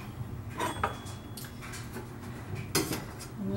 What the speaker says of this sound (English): I'm just going to stir this around so all of the kale softens a little bit.